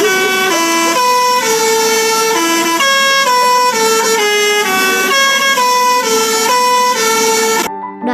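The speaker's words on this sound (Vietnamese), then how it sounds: "Bác Tài liền ca ngay một bài chúc mừng sinh nhật bằng tiếng còi xe cứ phải gọi là chất hơn nước cất." A truck's musical horn plays the Happy Birthday tune, loud and close, with clear sustained tones in a steady melodic rhythm before cutting off abruptly near the end.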